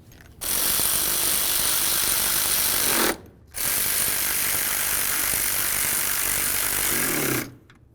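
A power tool runs in two long continuous bursts, snugging the mounting bolts on a Dodge Journey water pump. Each burst is a loud, steady mechanical whirr, cut off by a brief pause and a final stop.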